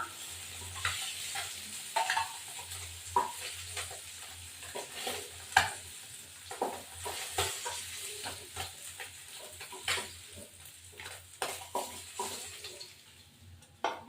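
Small fish and kalo jeera tempering sizzle in mustard oil in a pan, a steady close frying hiss with frequent scraping stirs and clinks of the spatula throughout, no talking.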